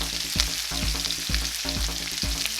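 Pork tenderloin seasoned with Greek seasoning sears in a hot pan, a loud, dense, continuous sizzle heard up close, with a few soft rhythmic thumps as the meat is shifted and no talking.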